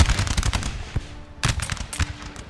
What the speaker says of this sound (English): Right, the Landwehr is opening fire.